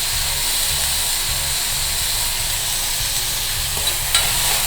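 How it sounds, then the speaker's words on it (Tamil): Onion and tomato, seasoned with turmeric and salt, sauté in a pan for a potato kurma, giving a loud, continuous sizzle with soft rhythmic stirring underneath and no talking. "வெங்காயம் தக்காளி நல்லா வதங்கட்டும்."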